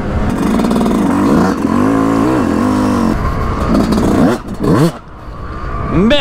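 A 2022 Yamaha YZ 125 two-stroke motorcycle engine revs up and down in loud, close bursts, with pitch climbing and falling repeatedly and a short dip before rising again.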